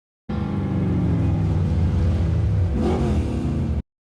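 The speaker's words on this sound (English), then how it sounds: "He just revved his engine so he could hear him coming" A car engine revs hard and steadily in a scene from the film Fast Five, one loud continuous roar with a brief pitch rise near the end, no talk over it.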